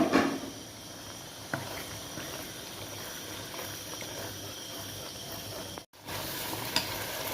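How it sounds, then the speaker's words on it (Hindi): Masala spices sizzle and fry in oil for chicken karela, a steady close crackle with a few soft clinks and a brief pause near the end. "ये मसाले को अच्छी तरह से मैं भून के और फिर चिकन डाल दूँगी।"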